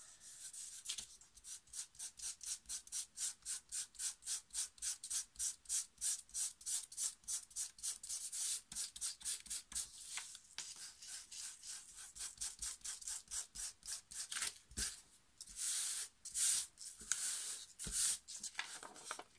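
A fingertip spreads glue across a paper napkin laid on paper, giving quick, regular scratchy rubbing strokes in a steady back-and-forth rhythm, close and quiet, with a few louder scrapes toward the end.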